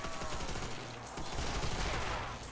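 Rapid bursts of gunfire in the zombie mode of the video game Call of Duty: World at War, dense automatic fire rattling through the whole stretch with a brief lull near the middle, loud and close, mixed with game audio and no talking.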